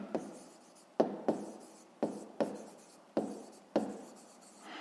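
A pen or pencil writes on paper in short, distinct strokes, about eight quick scratches with brief pauses between them, close and fairly quiet, with no talking.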